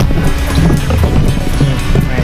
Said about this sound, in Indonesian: Anginnya kenceng banget guys. Kenceng banget anginnya.